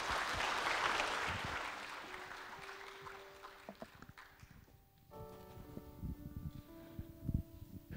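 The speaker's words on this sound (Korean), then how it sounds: "우리 박수로 환영하실까요?" Faint applause from a Korean church congregation at a Sunday service welcomes a member forward to give a testimony. The clapping fades out after a few seconds, and soft sustained keyboard-like tones follow.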